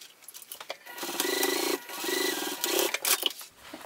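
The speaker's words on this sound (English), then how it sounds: "I'm just going to sew across this, back stitching when I start and stop about 1/8 of an inch away" A sewing machine stitches across a fabric wristlet, running in several bursts with short pauses between them as it back-stitches at the start and stop, a steady mechanical whir close by.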